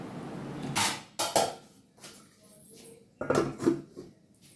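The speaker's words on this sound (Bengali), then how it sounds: "এবার আমি এটা ঢাকা দিয়ে রান্না করব।" A cooking pot being covered with its lid, giving two sharp metallic clanks near the start and another pair of clattering knocks later, close and clear against a quiet kitchen background.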